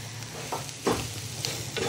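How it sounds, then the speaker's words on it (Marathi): A spatula stirs a mixture in a pan as it sautés, giving soft scraping strokes over a faint, steady sizzle, close and quiet with no talking. "तर अगदी मिनिटभर आपल्याला हे परतून घ्यायचं आहे।"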